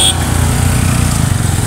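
Motorcycle engine droning steadily as the bike climbs uphill with riders carrying shoes and sandals, a loud continuous low-pitched hum throughout with faint voices underneath.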